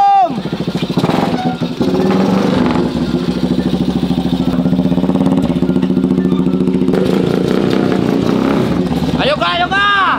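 A motorcycle that had stalled on an uphill road is started and left running, its engine churning steadily and loudly close by while people talk over it.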